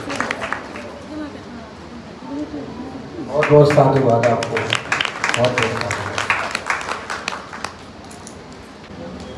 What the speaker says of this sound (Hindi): एक बार जोरदार तालियां इनके लिए